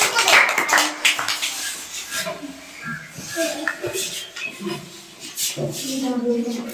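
Children and adults clap together during a comedy game of animal sound imitation, with scattered hand claps that start and stop under lively talking and laughter.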